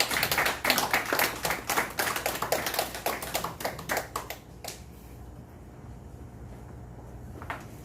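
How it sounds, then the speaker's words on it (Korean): A church congregation claps to welcome performers at a Sunday worship service, a lively run of crisp, close claps that thins out after about four seconds, leaving a quiet room with one last clap. "나올 때 박수로 안녕하겠습니다."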